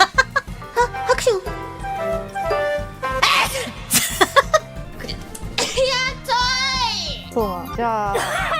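A VTuber's anime-style voice lets out several forceful sneezes in quick succession, mixed with coughs and squeaky vocal bits over a bouncy backing track, with voices talking between them.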